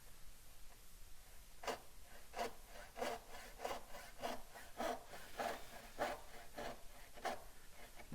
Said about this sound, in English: You can almost push that saw